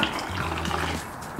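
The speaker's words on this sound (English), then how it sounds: "we're just gonna pour our coconut milk" Homemade coconut milk poured into a cheesecloth folded over many times, giving a steady, close liquid splashing and running-water rush that lasts throughout.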